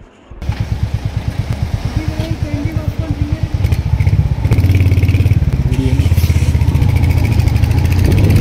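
Motorbike engine puttering steadily with rhythmic pulsing while riding through busy mountain-road traffic near Atal Tunnel on a Manali to Sissu trip, growing louder and rougher midway, with faint clatter around it.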